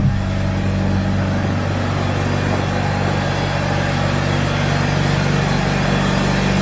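A Mazda RX8 rotary engine idles steadily while warming up, a constant low mechanical hum with a faint whine, close by and uninterrupted, no voices over it.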